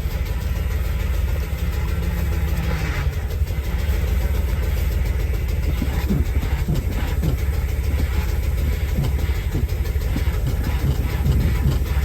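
A 1975 Lincoln Continental's engine runs steadily at idle, jacked up with no tires on, a constant low rumble with faint mechanical clatter throughout, close and continuous.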